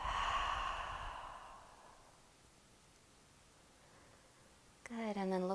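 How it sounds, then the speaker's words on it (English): A long, deep breathy exhale during seated yoga breathing fades out over a couple of seconds, close and soft, followed by a quiet pause and then a voice speaking. "Exhale it out."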